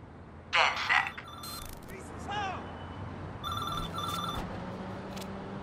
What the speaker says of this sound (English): I found a payphone with some hardware attached to it. It just started ringing